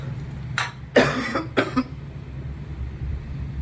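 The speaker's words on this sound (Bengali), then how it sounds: "প্রচণ্ড কাশি কী করবো" A person with a persistent heavy cough hacks in three harsh, close bursts over a low steady background hum, then falls quiet.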